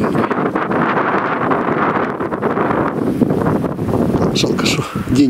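Strong gusty wind buffeting the microphone on a mountain trail climbing Hoverla on an overcast, drizzly day, a loud continuous roar with rustling, and a voice briefly audible near the end.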